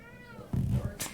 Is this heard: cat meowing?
yes